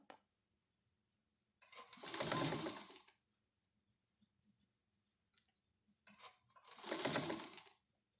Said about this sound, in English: just sew around the edges, pull a little bit through, squish a little bit up